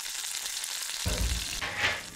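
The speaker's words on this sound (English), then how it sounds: "you can just plop right in a frying pan and it's done in no time" Lionfish fries in a pan, a bright continuous sizzle that jumps louder about halfway through as more hiss and crackle break out, with no talking.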